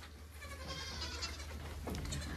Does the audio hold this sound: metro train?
no